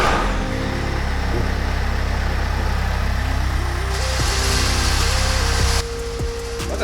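A car with a manual clutch runs its engine at a steady idle, a loud low rumble that holds throughout, with small shifts in pitch near the end.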